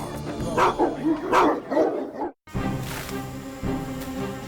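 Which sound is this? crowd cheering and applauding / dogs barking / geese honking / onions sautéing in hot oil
dogs barking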